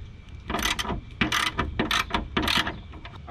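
Socket wrench ratcheting on the 10 millimeter hood bolts of an Abarth 500, several bursts of quick clicking at close range, separated by short pauses.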